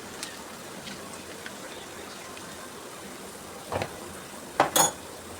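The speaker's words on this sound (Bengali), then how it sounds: "পেঁয়াজ কুচিটাকে আমি একদম ফ্রাই করব না, একটু নরম হওয়া পর্যন্ত ভেজে নেব।" Chopped onion softening in a pan for a beef and tomato curry, a steady low sizzle with occasional soft scrapes and a couple of clearer utensil clinks near the end.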